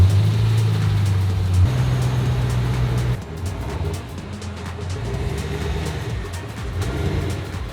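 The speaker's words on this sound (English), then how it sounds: "So let's move the Camaro first." A Chevrolet Camaro idles and creeps inside a home garage, its low engine rumble steady and close, shifting tone as the car is moved, with no talking.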